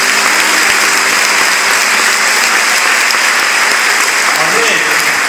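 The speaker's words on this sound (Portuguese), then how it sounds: "Aplauda Jesus se você crê assim" A church congregation claps and applauds during a service, making a dense, loud, continuous wash of clapping with voices mixed in.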